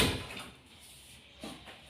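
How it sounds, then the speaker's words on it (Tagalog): A door is pushed shut indoors, giving a soft thud at the start and a second, lighter knock about a second and a half later, both quiet against a faint room hiss. "sasara ko lang po ang pinto"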